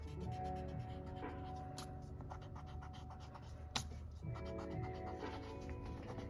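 A pencil drawing of a bitten donut being erased on paper, with steady close rubbing strokes in a quiet room and a couple of brief sharp ticks partway through.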